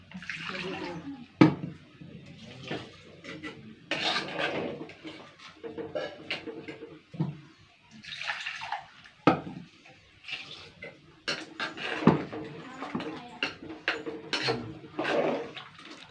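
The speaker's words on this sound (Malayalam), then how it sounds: "കുറച്ച് വെള്ളം കൂടി ഒഴിച്ചു" Water poured into a cooking pot of curry with yogurt and ground chilli and cumin, heard as intermittent splashing and trickling pours with clinks of the pot, close by, under a voice talking.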